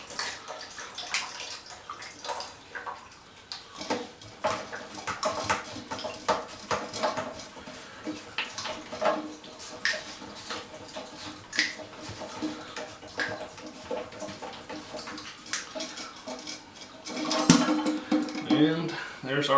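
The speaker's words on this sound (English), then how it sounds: "And there's the rest of the water coming out." Remaining water gushes and gurgles out of a toilet tank during a fill-valve repair, an irregular splashing and trickling that surges louder near the end, with no talk.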